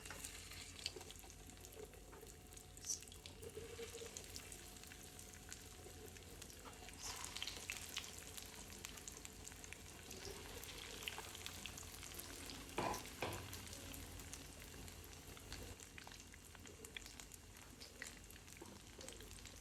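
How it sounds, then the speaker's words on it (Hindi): Vegetable kebabs fry in a pan, giving a faint, steady sizzle with soft crackles and an occasional stir or clatter throughout. "ये देखिए मैंने 4 कबाब तैयार कर लिए। अभी फ्राई करती हूँ।"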